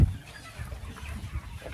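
Chickens cluck softly on a storm-damaged poultry farm, with a few short clucks over low rumbling background noise, faint and close, no speech.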